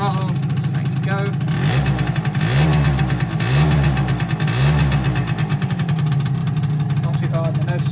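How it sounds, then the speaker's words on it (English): Aprilia SR50 R scooter engine close up, a buzzing idle swelling into three or four throttle blips that rise and fall in pitch before settling back, with a voice speaking over parts of it. "revving it without letting it warm up first, but if you don't, the bike dies"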